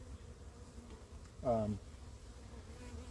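Packaged honeybees hum faintly in the background, with one brief, louder buzz passing close by in the middle.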